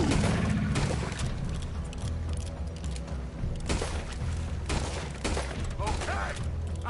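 Rapid gunfire crackles through a Western shootout in Red Dead Redemption, with bursts of overlapping shots and booms over several seconds while voices talk and shout over them.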